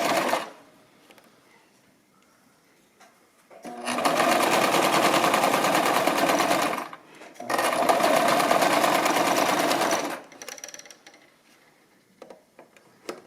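A Brother LX-3125 sewing machine stitches an apron seam under foot-pedal control in two sustained, loud bursts of rapid mechanical whirring, separated by a short pause and framed by quiet handling noises.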